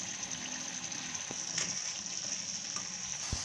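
Masala with coriander sizzling in oil in a pan for paneer do pyaza, a steady close hiss broken by a couple of quick clicks, with no one talking.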